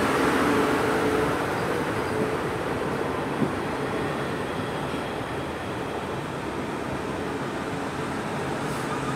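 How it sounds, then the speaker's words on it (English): A class 450 electric multiple unit, 450-108, arriving at Brockenhurst station and terminating from Lymington Pier: a steady broad rumble and rail hiss holds for the whole stretch, with one brief clank partway through and no talk. "coming in once again 450-108, terminating in from Lymington Pier"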